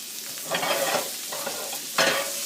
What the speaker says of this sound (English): once that butter turns brown, that rosemary will kind of crisp up a little bit